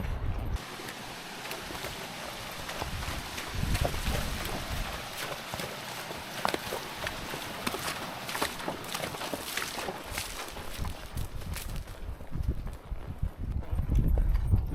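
A mule's hooves clip-clop on rocky ground along the California Trail at City of Rocks, Idaho, in a steady plodding rhythm under constant wind and outdoor noise.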